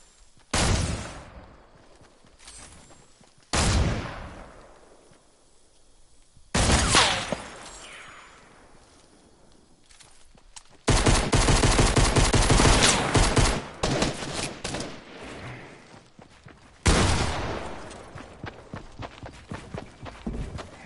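Gunfire during a fight in a video game, with repeated loud bursts of shots, some single blasts and sustained rapid-fire volleys, plus footstep-like rustles between them and no talk.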